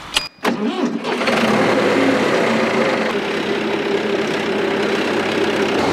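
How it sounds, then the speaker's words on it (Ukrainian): A tractor engine cranks briefly, catches, and settles into a loud, steady idle rumble that continues to the end. "Потрібно запустити двигун."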